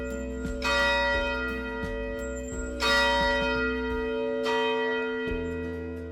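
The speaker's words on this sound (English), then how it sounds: "The 900-pound bell was made in New York and contains silver that was mined in Austin, which is said to give the bell its silvery tone." A 900-pound church bell cast in New York with silver in its metal rings out in several strong, spaced strikes, each leaving a long, shimmering, silvery hum that fills the quiet between hits.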